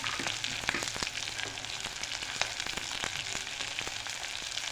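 Cauliflower, carrots and peas sizzle and fry in a hot pan for veg pulao, a steady close crackle with scattered sharp pops and occasional stirring scrapes, no voices.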